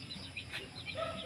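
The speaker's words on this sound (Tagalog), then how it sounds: "Ayan po yung mga inahin." Hens cluck softly in short, scattered calls, fairly faint against a background hiss.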